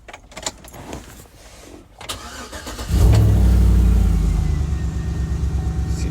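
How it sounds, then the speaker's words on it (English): A 2012 Chevy Tahoe cranks briefly after a few clicks, then catches and settles into a loud, steady idle, close by with no talk. "So when you crank up the truck,"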